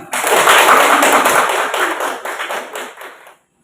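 A classroom group claps together in a burst of quick, dense handclaps, loud and close, lasting a little over three seconds before stopping abruptly into silence.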